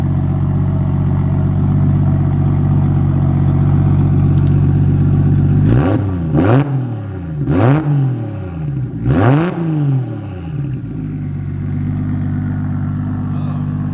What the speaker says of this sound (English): let's get this thing down, fire it up. Give it a little rev for the folks.